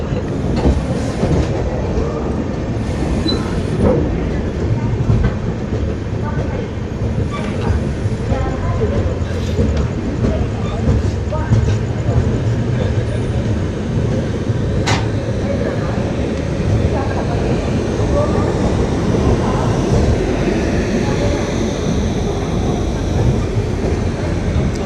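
Godavari Express passenger train running with a steady clickety-clack of wheels on rail joints and a continuous rumbling carriage noise, loud and close from inside the coach, with some voices in the background.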